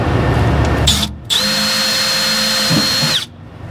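A power drill whirs at a steady high pitch while boring a small pilot hole in the body of a VW Bus, loud and close, stopping briefly, restarting, then spinning down.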